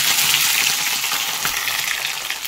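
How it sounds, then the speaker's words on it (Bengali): Onions and green chilies frying in hot oil with a dried red chili for chicken kosha, a loud, close, continuous sizzle with crackling bursts and no talk. "তো তেলটা গরম হয়ে গেলে একে একে পেঁয়াজ কাঁচা লঙ্কা তেলের মধ্যে দিয়ে"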